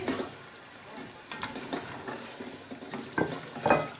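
Chicken frying in a spiced tomato masala for desi murgh curry, with a low sizzle under repeated close scraping stirs of a spoon against the pot, several louder strokes near the end.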